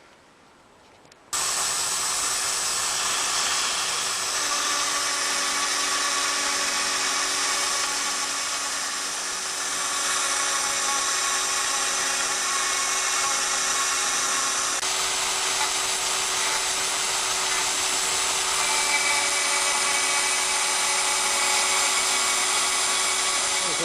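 A CNC router cuts parts while a vacuum runs, a loud, steady high-pitched whine with a constant hum underneath, starting abruptly and continuing unbroken throughout with no speech.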